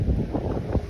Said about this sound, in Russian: Друзья, ветер.